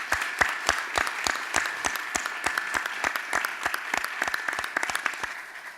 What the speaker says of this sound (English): Let's give him a round of applause for being with us.